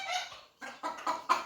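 A hen clucks close by in a short series of four or five quick, rising calls after a longer opening call, with no talk over it.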